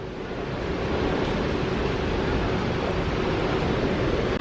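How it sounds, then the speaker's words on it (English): A waterfall in Laos roars as a dense, steady rush of water, loud and continuous with no voices over it. "I hear a waterfall,"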